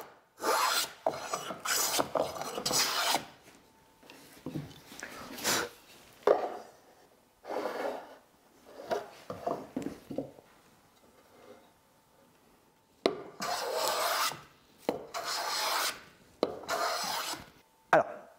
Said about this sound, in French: le rabot il se pousse hyper facilement, on arrive à retirer des gros copeaux